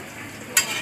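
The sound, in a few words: pork frying in pan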